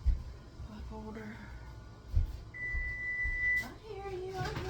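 A kitchen timer gives one steady, sustained beep lasting about a second while muffin biscotti bake, amid soft kitchen clatter and voices talking nearby.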